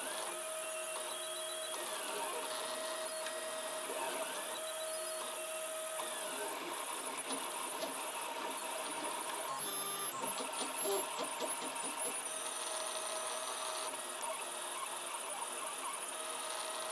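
A 3D printer printing an LCD back plate, its stepper motors whirring and squealing in shifting tones as the head moves, steady and moderately close, with a voice talking now and then.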